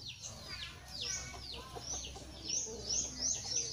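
Chickens clucking outdoors in a rural setting, a string of short near clucks and higher squawks repeating irregularly over a low background hum, with no talking.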